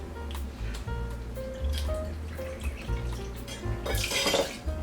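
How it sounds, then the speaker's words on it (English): Gin poured into a metal cocktail shaker tin while making a Bee's Knees, a close, steady liquid trickle and splash lasting a few seconds with a brighter burst near the end. "So let's go ahead and throw in this 2 ounces of gin."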